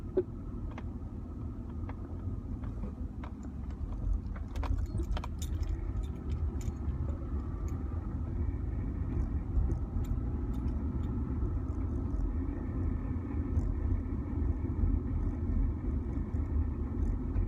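Low road rumble from inside a moving 2003 Honda CR-V during a brake test continues steadily, with scattered light rattles and clicks over it.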